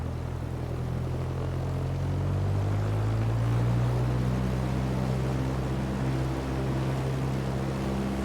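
A steady, droning propeller aircraft engine running up at 2,000 RPM in a flight simulator game, a continuous hum with low tonal whine that holds level throughout and has no speech over it.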